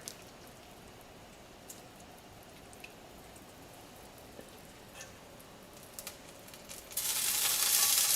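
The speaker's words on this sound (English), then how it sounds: "And we're just going to brown this meat up." Meat in hot lard in a cast iron pan gives a quiet, steady sizzle with faint pops, then surges into a loud hiss near the end as it starts browning.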